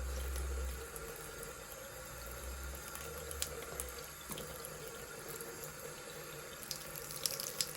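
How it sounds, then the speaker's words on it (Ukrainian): Tap water runs steadily into a sink while a makeup brush is rinsed, a continuous splashing rush with a few small clinks near the end. "нас тікає брудна вода"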